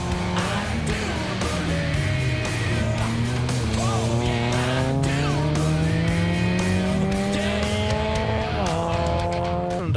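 A rally car at the Rallye Príncipe de Asturias drives hard, its engine revving up and down steadily for the whole stretch while the tires squeal and skid. The sound is loud and close, with no voices.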